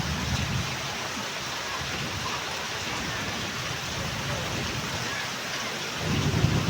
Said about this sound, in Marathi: एवढा छान पाऊस आलाय ना